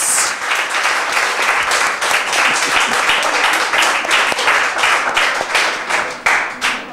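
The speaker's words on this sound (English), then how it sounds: "Give all round a big round of applause." Sustained applause from a crowd at a 2018 spelling bee final, dense steady clapping filling the whole stretch with a few louder individual claps standing out.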